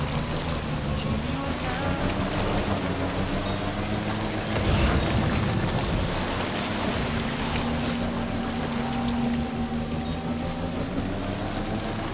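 Rain falls in the video game Death Stranding 2 as a dense, steady hiss of drops on surfaces, swelling briefly midway, with a low rumble beneath and no one speaking.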